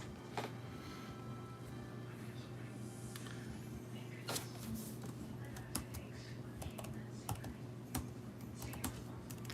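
Typing on a computer keyboard during an evening cocktail-hour livestream, a steady run of faint, close, irregular key clicks with occasional sharper taps over a low steady hum, lasting the full stretch.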